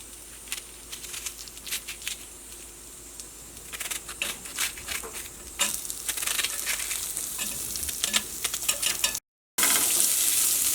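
Finely chopped onion hits a hot pan and sizzles while being stirred, with a steady frying hiss. Sharp clicks and scrapes from the spoon get louder and busier partway through.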